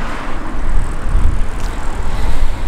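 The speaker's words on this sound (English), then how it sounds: "you can hear lots of cars going by" Steady broadband roar of cars passing on a busy road, captured outdoors on a Rode VideoMicro with a windsock, loud and continuous with no speech.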